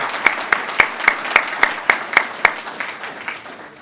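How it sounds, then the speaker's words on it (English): Audience applause at a chamber of commerce small business awards luncheon held at a country club, heard as a steady train of sharp, evenly spaced claps over a softer clapping bed, close and fairly loud, tapering off at the end. "Let's have a round of applause for our host today, the Thorny Lea Country Club."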